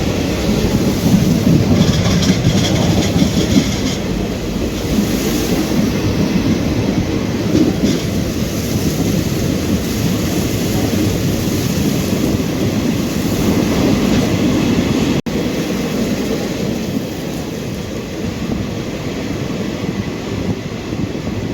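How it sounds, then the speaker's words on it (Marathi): Tapovan Express runs through the Kasara Ghat in rain after the first tunnel, a continuous loud rumble of wheels and rattling coaches with faint clickety-clack. "पहिल्या बोगद्यामधून आपली ट्रेन जी आहे ती सध्या पार झालेली आहे कसारा स्टेशनच्या नंतर"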